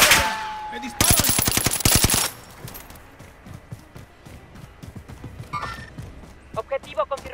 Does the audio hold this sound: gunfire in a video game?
yes